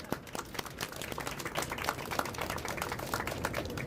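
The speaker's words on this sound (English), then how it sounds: "a huge round of applause for" A crowd gives a round of applause for the Super Bowl host committee, a steady patter of many hands clapping, moderately distant and continuous, with no voices over it.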